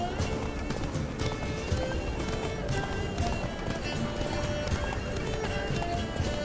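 Horse hooves in The Witcher 3 galloping in a fast, continuous clip-clop rhythm, fairly loud and close, with ambient game sound and occasional voice beneath.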